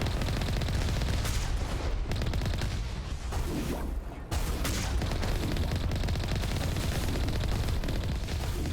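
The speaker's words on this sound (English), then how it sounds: "And sometimes you shoot something." Continuous loud gunfire and explosive bursts from a shootout in the Mass Effect video game, dense and sustained with a brief dip midway, no talk.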